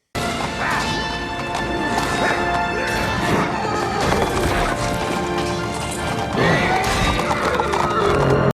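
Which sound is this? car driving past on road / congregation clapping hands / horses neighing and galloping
horses neighing and galloping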